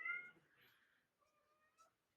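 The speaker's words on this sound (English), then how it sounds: "Sorry if you can hear my cat." A house cat meows indoors, faint and distant, with a couple of drawn-out cries spread across a couple of seconds and no voices over them.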